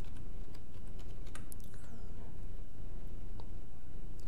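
Quick tapping keystrokes as an OTP is typed on a mobile phone, a fast irregular patter of light clicks over a steady background hum, with no talking.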